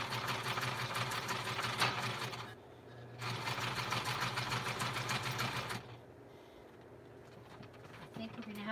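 A sewing machine zigzag-stitching around the edge of a handmade Halloween mini junk journal, running in two steady bursts of rapid whirring with a short pause between, then quieter background after it stops.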